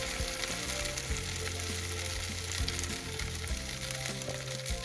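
Grated-potato batter for Ukrainian potato pancakes sizzles and crackles steadily in a hot frying pan, close and continuous, with no talking.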